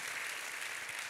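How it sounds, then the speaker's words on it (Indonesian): Church congregation clapping together during a worship service, a dense steady wash of applause filling the brief moment. "Kita kasih tepuk tangan sekali lagi buat Tuhan kita yang luar biasa."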